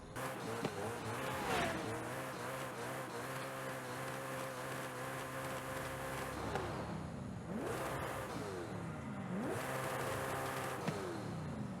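Koenigsegg Jesko hypercar in the racing game Forza Horizon 5, played on a Logitech G923 wheel: loud, sustained engine revving and accelerating through repeated gear shifts, with rising and falling pitch sweeps and tire noise.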